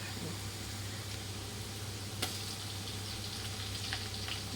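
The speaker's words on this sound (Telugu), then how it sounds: "వేగుతున్నాయి, కొంచెం కలర్ మారినాయి." Onion pieces and green chillies frying in a pan for mutton biryani, a steady close sizzle running throughout with faint stirring clinks and one brief sharp tap.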